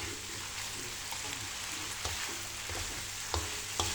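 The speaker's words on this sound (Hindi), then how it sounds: "इसको अच्छे से सौते करेंगे मज़ीद" Noodle sauce with ketchup sautéing in a pan at home, a steady close sizzle with soft scraping stirs and a few sharper clinks near the end, no voices.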